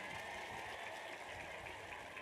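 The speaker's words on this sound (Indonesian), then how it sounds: "Tepuk tangan tuh Bu Atun" Applause from a women's audience at an Islamic religious gathering, a steady dense patter of clapping filling the whole moment at moderate distance, with no voices on top.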